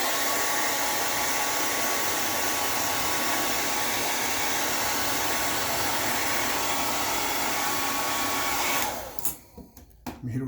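A hair dryer blows loudly and steadily for about nine seconds, then cuts off, leaving brief faint handling noises.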